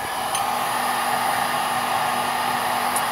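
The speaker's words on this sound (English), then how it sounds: "I don't ever actually use this blow dryer on my hair" A handheld blow dryer runs continuously at close range, a loud, steady whooshing hum with no pauses, heard alone.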